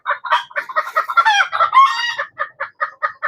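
Chickens cluck loudly and close by in a rapid series of sharp, repeated calls with a drawn-out squawking cackle in the middle, alone without talk.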